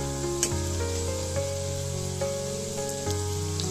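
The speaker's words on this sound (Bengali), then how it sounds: "যে বাকিগুলো ছিল সেগুলো দিয়ে নিলাম ঠিক একই রকমভাবে ভাজা করে নেবো" Coconut pitha cakes frying in hot oil in a pan, a continuous soft sizzle and bubbling with faint tonal hum in the background, a few small clicks, nobody speaking.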